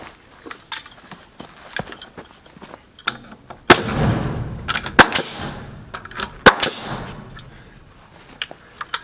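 A nail gun fires into board and batten wall trim, producing a string of sharp, loud cracks and thumps at irregular intervals, some followed by brief rattling noise, with no voices.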